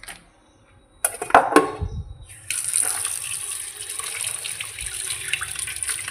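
Tap water runs into a sink to soak two fish, starting with a few clattering knocks, then a steady, close gush that continues to the end.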